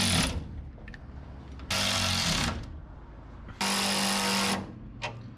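A power tool cuts a quarter inch off a threaded part while lowering a 1961 wagon, whirring in two loud, close bursts of about a second each, with quieter gaps between them.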